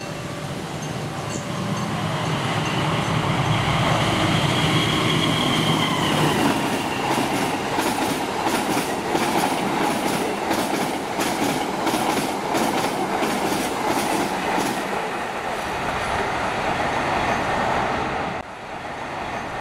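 A passenger train rolls past close by, its wheels clicking in a rapid clickety-clack over the rail joints under a constant rumbling roar that fades slightly at the end.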